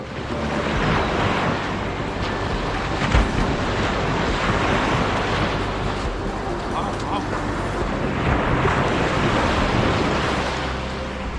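Steady rush of surf washing ashore, broad and continuous with gusts of wind noise over the microphone throughout.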